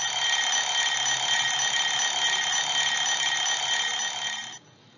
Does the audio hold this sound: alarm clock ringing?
yes